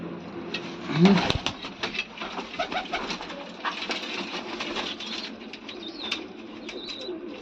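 Pigeons coo softly while a burst of wing flapping sounds close by, with scattered rustles and faint chatter in the background.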